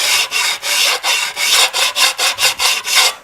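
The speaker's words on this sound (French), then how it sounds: "On va quand même passer un petit coup de ponçage pour ne pas se couper. Alors, utilisez une pierre fine" A fine sanding stone rubbed back and forth along the cut edge of a glass mosaic tile in a bathroom, a loud, close, steady rasping in about a dozen rhythmic strokes, with no talking.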